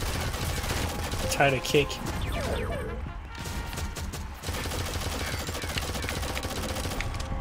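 Dense gunfire from the mobile shooter Shadowgun Legends during a PvP match, with shotgun blasts mixed into continuous loud weapon noise, while a player talks excitedly over the action.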